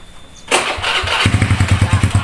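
A motorcycle engine cranks and catches with a sharp burst, then settles into a rhythmic, pulsing idle that chugs loudly and close by for the rest of the moment.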